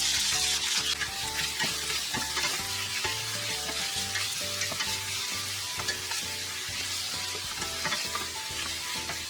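Garlic and mushrooms frying in a pan on a stovetop, a steady loud sizzle with rhythmic clatter of stirring running throughout, no voices.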